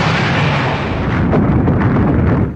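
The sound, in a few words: cartoon energy blast explosion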